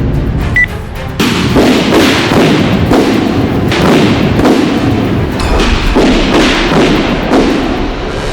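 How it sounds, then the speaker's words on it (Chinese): Fireworks explode in a loud, close barrage of booming thuds, one burst after another at a fast, fairly steady pace. "马上快看，好好看的烟花"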